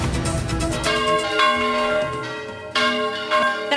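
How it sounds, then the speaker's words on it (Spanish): Church bells of La Palma in Cádiz's Viña neighbourhood ring out loudly after six months of silence for restoration, with repeated overlapping strikes and long ringing tones that swell again near the end. "hoy por fin las campanas de La Palma vuelven a sonar en su barrio"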